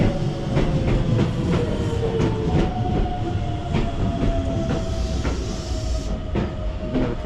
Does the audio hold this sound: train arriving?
yes